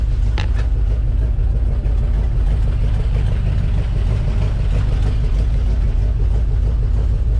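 A 1962 Chevrolet C10 pickup engine idles steadily up close, a low, continuous rumble with a slightly uneven chug throughout.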